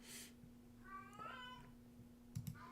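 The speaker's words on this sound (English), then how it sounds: "It's one of our cats" A household cat gives a single drawn-out meow in the background, faint and indoors, with a steady electrical hum and a few soft clicks and knocks around it.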